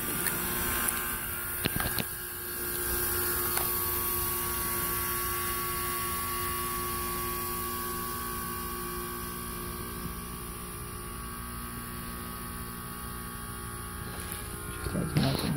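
A Carrier heat pump running in defrost mode gives off a steady electrical hum and buzz with a faint mechanical drone, continuous for the whole stretch, with a few brief clicks near the start and end.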